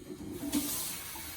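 Cold water running from a kitchen tap to cool cooked chicken fillet, a steady close hiss with a brief stronger gush as the flow picks up.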